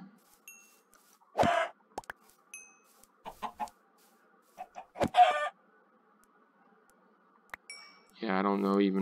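Video game chickens give scattered short clucks across several seconds, then one long, loud crow closes the sequence.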